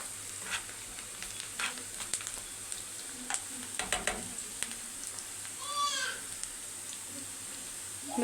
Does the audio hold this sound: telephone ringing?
no